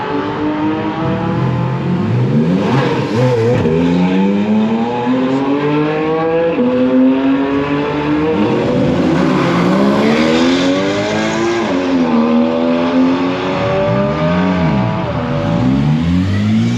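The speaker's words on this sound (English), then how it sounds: "Typical BMW owner, just wheel spin." A BMW spinning its wheels on a race track at a Goodwood event: a loud, close engine revving and rising in sweeping waves over continuous tire noise for the whole stretch.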